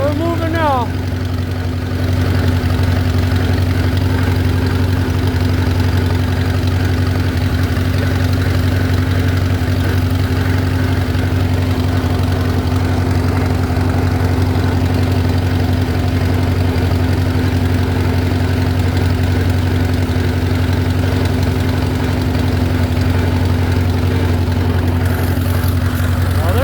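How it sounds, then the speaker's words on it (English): An Allis-Chalmers WD tractor engine runs steadily on its first drive, a loud, even low throb with a constant hum that holds throughout, close to the listener. "First drive on the Allis Chalmers."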